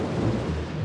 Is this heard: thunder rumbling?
yes